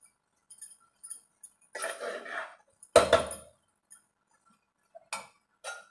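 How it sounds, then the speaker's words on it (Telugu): A spoon mixes pappu avakaya rice with mango pickle and garlic in a metal bowl, giving sparse, close clinks and scrapes with quiet pauses between them. "ఇప్పుడు ఆవకాయ వేసిన తర్వాత మళ్ళీ మిక్స్ చేద్దాము"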